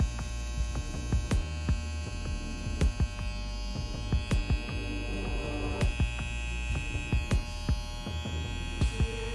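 An electric hair trimmer buzzes steadily during a haircut, with a constant droning hum and regular sharp clicks and taps about every half second, close and even throughout, no speech.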